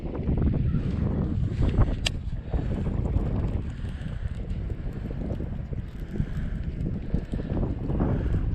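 Wind buffets a boat on a reservoir during fishing. A loud, steady roar of wind noise rolls on without a break, with no speech.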